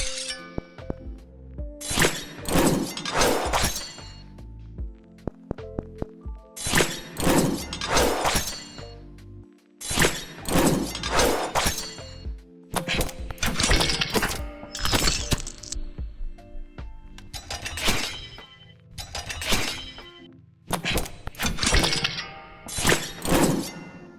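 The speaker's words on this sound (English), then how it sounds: "I was so happy when I found the perfect heavy but sharp weapon sound." Heavy, sharp weapon attack effects for a Unity video game, loud bursts of clashing, shattering metallic impacts arriving in repeated clusters with brief gaps between them.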